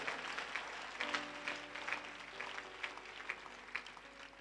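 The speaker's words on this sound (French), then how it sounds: "Est-ce que tu peux applaudir très fort" A church congregation claps together at a low level, with irregular bursts of applause rising and falling over several seconds.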